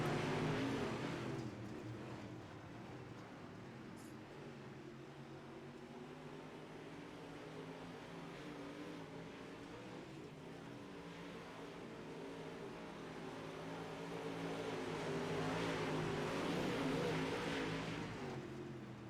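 UMP Modified race cars lapping the dirt oval at Lernerville in iRacing, a steady droning engine roar from several cars that swells toward the end, heard at a moderate distance.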